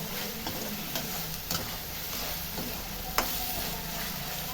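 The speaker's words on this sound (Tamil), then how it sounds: "இதை அப்படியே எண்ணெயிலே தான் கொஞ்சம் வதக்கணும்." Steady oil sizzle fills the background while spices and coconut are sautéed for a Tamil elephant foot yam dish, broken by occasional soft clinks of a stirring spoon.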